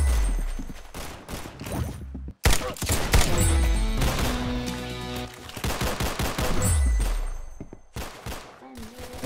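Rapid gunfire in the Roblox Arsenal shooter game: loud bursts of automatic shots crackle almost continuously, with a brief gap early on.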